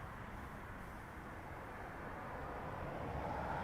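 Airbus A330 airliner at Dublin Airport, heard from a distance as a steady broad engine roar that swells slightly toward the end, no voices.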